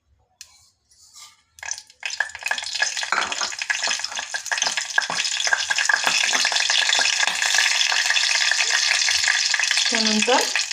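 Cumin and mustard seeds hit hot oil in a heated pressure cooker and burst into loud, steady sizzling and crackling that builds after a few quiet seconds and keeps going, with a brief scrape of a utensil near the end.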